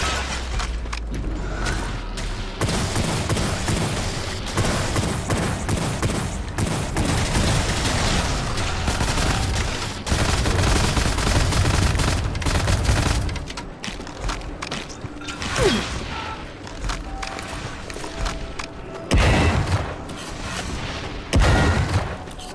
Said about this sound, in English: This guy shooting from like the top of the map.